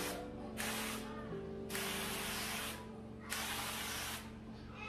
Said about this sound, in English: I'm gonna do a nice generous spray of avocado oil.